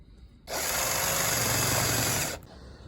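A 7mm drill bit bores steadily into metal on a lathe while making a motorcycle clutch cable part, a loud, even whirring grind that starts abruptly and cuts off after about two seconds.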